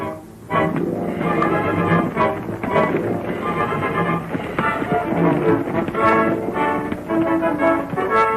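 Horses whinny loudly and repeatedly over a busy clatter of hooves, with a gusty, rumbling background.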